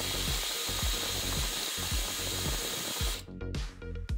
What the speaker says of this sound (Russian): Вставляем ее в шуруповерт. Одеваем ее на шпильку и прокручиваем несколько раз.